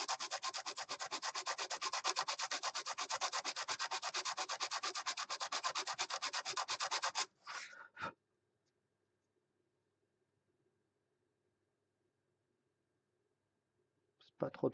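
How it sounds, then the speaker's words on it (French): Cork miniature base for a pre-painted Rackham figure being sanded, a steady rapid rubbing rasp that runs about seven seconds, then a brief scuff and near silence, with a faint rub returning at the end. "pourquoi tu redécoupes le liège? Bah non, tout simplement, je le ponce"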